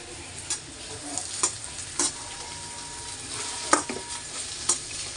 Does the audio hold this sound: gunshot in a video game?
no